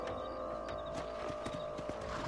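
Horse hooves clip-clop steadily in Red Dead Redemption, a close, even rhythm of several strikes over a constant game ambience.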